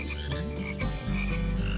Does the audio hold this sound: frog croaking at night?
yes